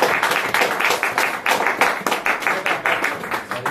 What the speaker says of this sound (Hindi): ऑर्गेनाइजर के लिए भी तालियां, के वो सुबह से बेचारे बैठे थे।